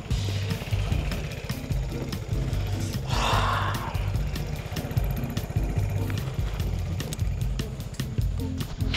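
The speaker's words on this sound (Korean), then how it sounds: "가까운 데라서 오토바이 타고 갔다 오려고 해요" A motorcycle engine idles nearby with a steady, uneven chugging putter, with a brief whoosh of noise partway through.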